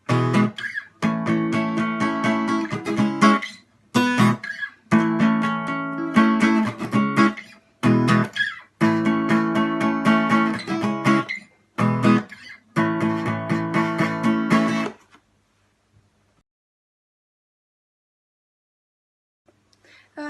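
Acoustic guitar strumming the chorus rhythm of a song, bright full chords in repeated bursts with short breaks between, loud and close, alone without voices, ending in silence.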